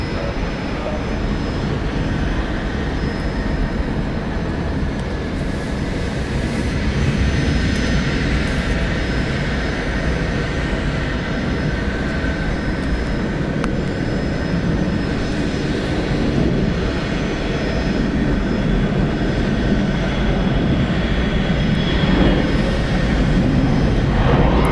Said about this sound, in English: Delta Airlines flight 1704, going to Austin. It's an Airbus A321.